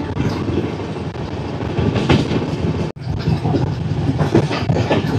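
A passenger train on the Visakhapatnam–Araku line rolls along its rails with a steady, loud rumble and rhythmic clickety-clack of wheels over joints, heard from inside a carriage, with a brief dropout midway.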